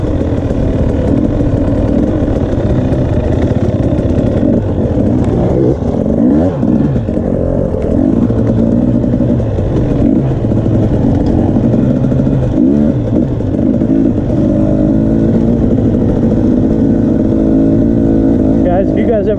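A 2020 KTM 300 XC dirt bike ridden at Rivers Edge, its two-stroke engine droning loud and steady throughout with shifting revs, while someone talks over it.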